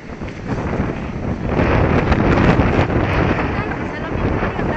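Strong wind roars and buffets the microphone in a loud, steady rush that swells and eases slightly without letup.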